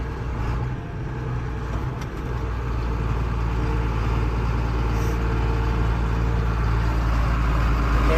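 A 1992 John Deere 4055 tractor engine runs at a steady, loud diesel drone while downshifting, with a slight dip in pitch near the start and then an even, sustained rumble.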